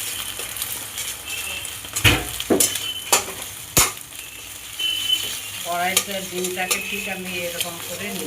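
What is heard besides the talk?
egg and potato frying in a kadai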